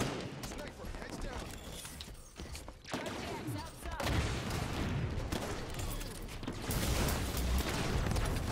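Gunfire in Halo 5: Guardians custom multiplayer, a dense flurry of shots and impacts rattling continuously under excited talking, with a brief lull partway through before the shooting picks back up.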